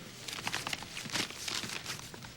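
Crinkling, rustling paper sounds in a quick series of bursts, close by and fairly soft, like a newspaper being folded and handled.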